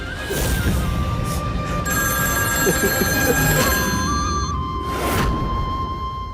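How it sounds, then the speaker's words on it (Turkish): A telephone rings repeatedly in a Turkish TV drama scene, its tones sitting over swelling background music and a dramatic whoosh, with no clear talk over it. "Telefonu aç arkadaşım hadi."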